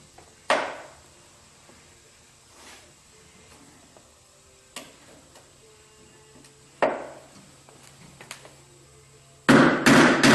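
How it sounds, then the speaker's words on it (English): A hammer rapping a Phillips screwdriver to free a stuck vehicle body mount screw, a few sharp, isolated metallic strikes spaced seconds apart, with a louder burst of clattering at the very end. "a couple sharp raps with the hammer,"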